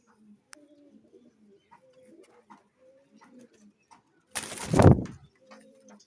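Pigeons cooing softly in low murmuring calls at a moderate distance, with a louder close rustling burst near the end.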